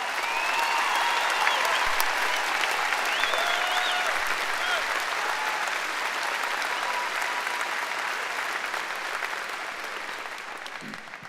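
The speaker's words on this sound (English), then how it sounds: "Please join me in just one more round of applause and appreciation for their dedication to God and country." A graduation ceremony audience at a high school gives a long, loud, steady round of applause, dense clapping from a large crowd that continues without pause and fades slightly near the end.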